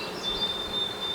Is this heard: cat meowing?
no